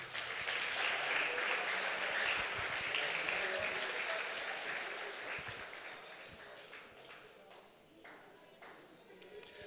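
A church congregation claps for the brothers being honored, a steady broad wash of applause that holds strong for several seconds, then slowly thins and fades toward the end.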